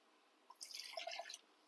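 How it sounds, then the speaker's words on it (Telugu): Water trickles and splashes for about a second, a short burst of pouring with dripping sounds, close and fairly quiet, no voices. "ఇప్పుడు ఇందులో కొద్దిగా వాటర్ పోసుకుందాం"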